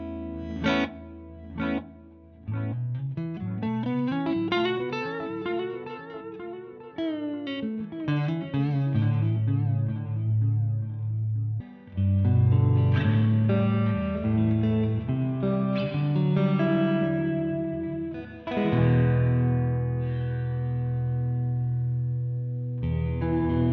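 An electric guitar played through a Sonicake Levitate dual modulation and reverb pedal, notes swirling and echoing in a continuous, layered wash of sound.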